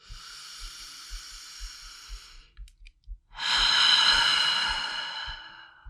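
Slow, deep breathing during a full-body mat workout: a long airy exhale, brief quiet pause, then a loud, close inhale lasting several seconds, over a faint steady rhythmic thump in the background.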